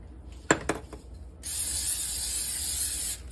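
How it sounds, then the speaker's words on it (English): Cooking spray hisses steadily from a can into a bowl for under two seconds, preceded by a couple of sharp clinks of the bowl and can being handled close by. "now you want to spray your bowl here"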